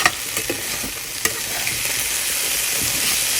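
Bitter gourd and potato pieces sizzle loudly in hot oil while being stirred, with scattered clinks and scrapes of the utensil over a constant frying hiss.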